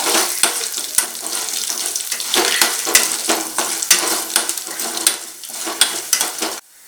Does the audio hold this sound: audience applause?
no